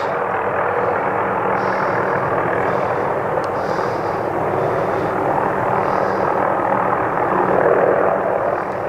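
A helicopter's steady, continuous rotor drone rises from a valley in Shenandoah National Park, filling the whole stretch at a constant level, distant but loud, with faint wind and outdoor ambience and no voices.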